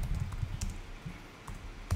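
Keystrokes tapped on a computer keyboard while entering text into a spreadsheet lookup field, a short run of soft, close clicks at an uneven pace, with no voices.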